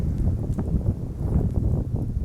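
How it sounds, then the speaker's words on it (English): Low, rumbling wind buffeting a microphone, steady and muffled with occasional gusty bumps. "Wait for the wind to die down."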